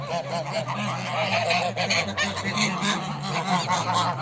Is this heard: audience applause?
no